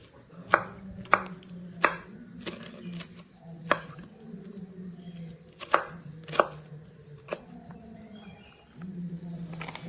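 A knife chops radish on a board for sambar, about eight crisp, separate cuts at an uneven pace, close and clear over a low background hum.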